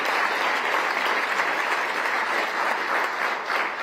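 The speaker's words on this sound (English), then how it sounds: "You really deserve a round of applause" A round of applause from a crowd at the opening celebration of the mHub Innovation Center, a dense, steady wash of many hands clapping that holds evenly throughout with no voices standing out.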